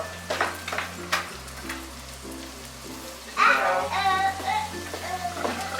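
Chicken schnitzel frying in butter in a pan gives a soft, steady sizzle with faint crackles, alongside clinking and scraping of utensils, fairly quiet and close.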